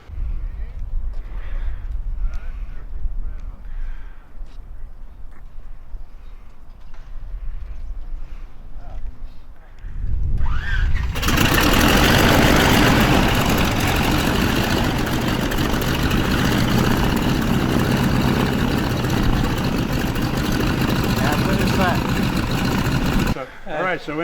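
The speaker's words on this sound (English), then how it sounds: "working overtime on Saturday, they finally got the 3rd engine going" The third engine of a vintage aircraft at HARS catches after people talk over a quiet background, then roars into a loud, steady idle that continues without pause until it cuts off near the end.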